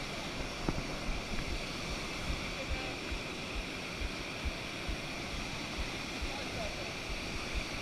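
River water rushes steadily around a kayak in a broad, continuous wash at moderate level, with faint paddle knocks and people talking over it.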